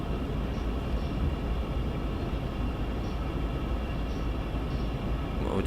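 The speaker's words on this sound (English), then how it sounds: "A fairly short train, but still cool to see." A fairly short train rolls past in Train Sim World 2 on the Cane Creek route, a steady broadband rumble of wheels and engine that stays loud and constant throughout.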